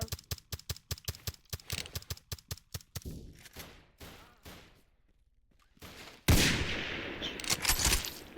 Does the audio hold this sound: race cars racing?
no